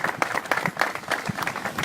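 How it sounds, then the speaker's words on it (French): A gathering at a chamber of commerce event applauds its staff with brief, moderately loud clapping from a small-to-medium crowd, individual claps distinct and uneven. "Et je voudrais qu'on les applaudisse"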